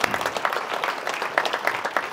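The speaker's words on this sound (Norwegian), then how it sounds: "Det synes jeg vi skal gi en applaus for." A crowd at a live gathering bursts into short, moderately quiet applause, a brief patter of many hands clapping together.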